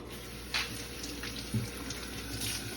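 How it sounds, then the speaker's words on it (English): Tap water runs steadily from a faucet into a sink while celery is rinsed, a constant close wash with a few brief splashes and clatters as the stalks move under the stream. "So I want to wash that off."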